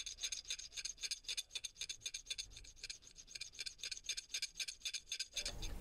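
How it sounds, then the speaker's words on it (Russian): A steel file rasps flat the angled ends of a bullet-shaped fishing lure made from a metal fitting, in quick, steady back-and-forth strokes, about a dozen close and distinct, with no voices. "Выравниваю плоскости на напильнике."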